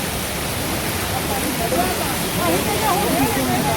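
Torrent of Ravi river floodwater rushing through a breached embankment near Chandu Wadala, Gurdaspur, heard as a steady loud broadband roar with faint voices over it.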